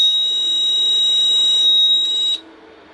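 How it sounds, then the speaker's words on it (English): A Kentec Syncro fire alarm panel's sounder emits a steady, loud, high electronic tone that holds continuously for over two seconds before cutting off abruptly, leaving a faint hum. "We can silence the alarm and we can resound alarm."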